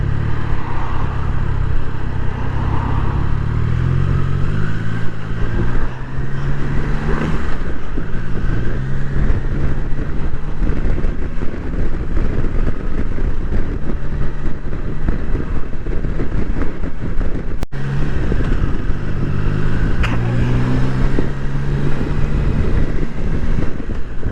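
A Triumph Tiger Sport 660 motorcycle is ridden on the road, its engine drone mostly buried under loud, constant wind buffeting on the microphone for the whole stretch.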